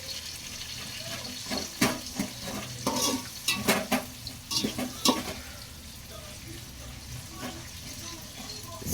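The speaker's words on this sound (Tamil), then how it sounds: "எண்ணெய் காஞ்சிடுச்சு, அதில் வெங்காயம், பச்சை மிளகா நல்லா போட்டு ப்ரௌனாக வர வரைக்கும் வதக்கிக்கலாம்." Onions and green chillies frying in hot oil for dum biryani, a steady sizzle with repeated scraping stirs of a spatula in the pan, close and moderately loud, no one talking.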